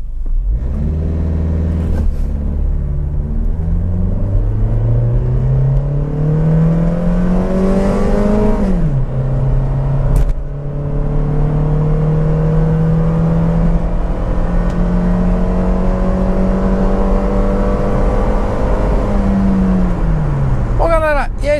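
A 2019 Caoa Chery Tiggo 2 automatic accelerates hard from 0 to 100 km/h in Sport mode with traction control off, pitch rising then dropping at each shift, a long steady climb with a brief pause midway.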